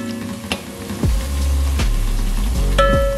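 Garlic-ginger paste fries in a pan for masala pulao, a loud close sizzle with a continuous hiss, broken by a few sharp clatters and a whirring hum underneath.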